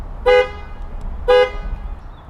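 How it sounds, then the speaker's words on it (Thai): Two short, loud car horn beeps from a Saab 900 Classic sound about a second apart, each a bright, brief toot over a quiet background. "แตร อยู่ตรงบริเวณนี้ครับ"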